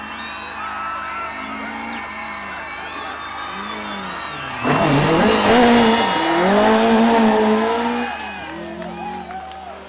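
Rally car engine revving hard on the Tour of Mull, a loud run with shifting, surging engine pitch that swells near and then fades slightly, with possible tyre squeal.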